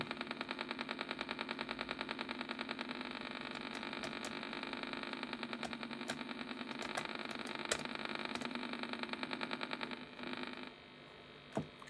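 Lander engine thrust in Vectrex Lunar Lander, a steady buzzing rapid pulse that runs almost unbroken for about ten seconds before cutting off. A single short blip follows, at low volume.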